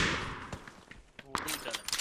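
Gunfire in PUBG on the Miramar map: a few sharp shots crack over a noisy background, with a louder burst near the end, while a voice talks under it.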